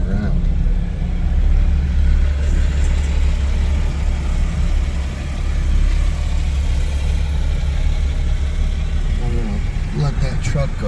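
A truck drives past on a road in Little Rock, Arkansas, after tornado damage, giving a steady, loud low engine rumble that swells and eases slightly as it passes, with faint voices beneath.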